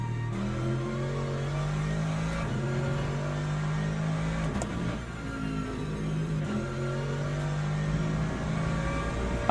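Race car engine in the sim racing game Le Mans Ultimate, a loud, close in-car drone with rising revs and brief dips for gear shifts, running continuously with no talk.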